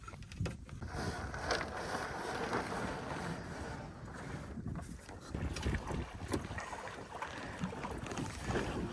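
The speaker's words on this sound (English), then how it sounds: "Got decent wind." Steady wind buffeting the microphone while sailing a small boat on Dworshak Reservoir, a continuous rough roar with gusty surges and water movement underneath and no talk.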